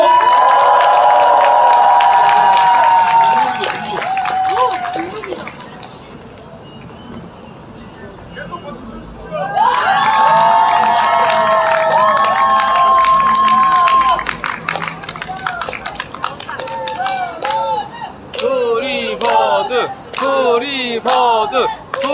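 Crowd at an outdoor climate justice rally cheering and clapping to welcome a band, loud bursts of shouting and applause that dip in the middle, then swell again with chant-like voices.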